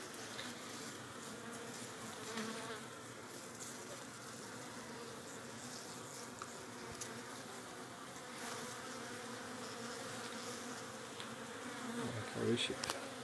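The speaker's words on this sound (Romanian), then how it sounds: "Au ieșit câteva albine pe aici." Honeybees swarm out of a frame pulled from the middle of a hive's brood nest in April, giving a steady, dense buzz throughout that rises a little near the end.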